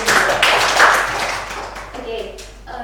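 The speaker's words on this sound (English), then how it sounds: "Give applause to." Classroom applause during a biology lesson, a short burst of close clapping from a small group of students that fades quickly, with voices speaking afterward.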